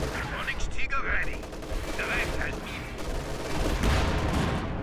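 Company of Heroes 2 battle with units firing continuous dense gunfire and rumbling combat noise, steady and loud throughout, with excited commentary over it.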